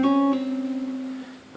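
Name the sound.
guitar pull-off notes from a solo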